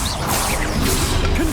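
A Stupefy stunning spell striking in Hogwarts Legacy during combat, a loud dense whooshing impact crash amid busy game effects and swishing spell sounds, with no talk.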